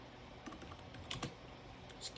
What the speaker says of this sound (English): Well, if I can type IP route,